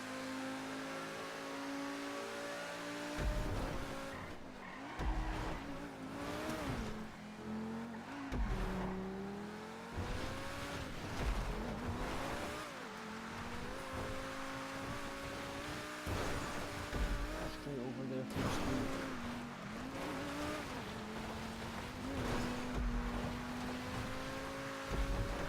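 A T20 supercar in GTA V races with its engine droning loudly and steadily, pitch rising and falling through gear changes and throttle lifts, joined by occasional tire noise, close and continuous with no talk.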